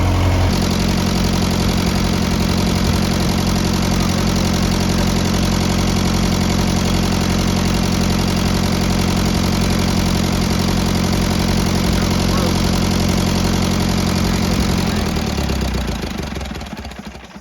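An International Harvester 574 diesel tractor engine idles loudly and steadily at close range, a dense continuous rumble that drops away in the final seconds as the engine is shut off.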